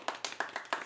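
Hand clapping in a short, sparse burst of about five distinct claps spaced roughly a beat apart, close and fairly dry, with no voices.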